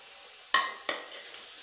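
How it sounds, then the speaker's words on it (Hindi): Apple pieces being stirred into Russian salad in a pan over low heat, two sharp scraping clatters of a utensil against the pan over a faint background hiss. "एप्पल को भी मिक्स कर लेते हैं।"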